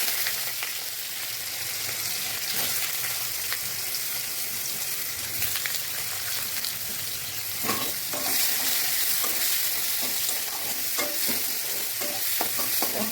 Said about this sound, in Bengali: পেঁয়াজটা আমি লাল লাল করে একটু ভেজে নেব।